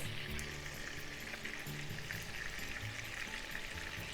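Pork-wrapped onion frying in a pan, a continuous even sizzle with fine crackles, fairly quiet and constant from start to end.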